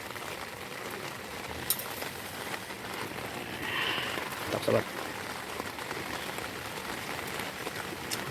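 Heavy rain falls on a beach campsite with strong wind, a steady soft patter and hiss running throughout under intermittent voices talking nearby.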